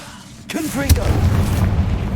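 A Confringo fire spell from Hogwarts Legacy bursts loudly at about half a second, with a second blast soon after, and a rumbling magical roar continuing beneath. A voice calls out over the start.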